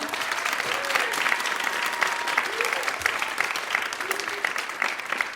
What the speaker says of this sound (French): on applaudit très fort Yasmine